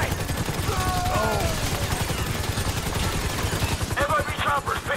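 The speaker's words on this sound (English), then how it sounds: "we're taking fire from the left side of the roof!" Rapid bursts of automatic gunfire rattle continuously in a GTA firefight during a raid on the FIB building, loud and close, with shouting voices mixed in over the shots.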